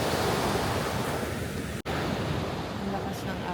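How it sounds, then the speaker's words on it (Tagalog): Loud, steady roar of strong sea surf crashing continuously on a South Korean shore on New Year's Eve, with a brief dropout midway before the heavy wave noise resumes. "Ang lakas ng alon sa dagat."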